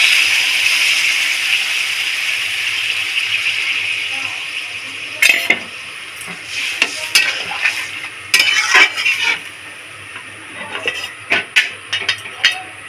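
Ridge gourd fried with salt and turmeric sizzles in a pan as water goes in, a bright hiss that fades into quieter bubbling while a spoon clinks and scrapes against the pan in sharp bursts.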